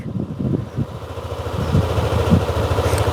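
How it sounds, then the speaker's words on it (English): A small scooter engine, a Honda PCX150 or Yamaha Zuma 125, sputters and settles into a low, even idle, close by and moderately quiet, with a rapid steady pulse. "let's do a startup of each scooter and see how they each sound"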